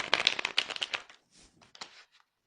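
Tarot cards are shuffled by hand before a reading: a close, crisp riffle of rapid flicking cards followed by softer, sparser shuffling that trails off, with no talking.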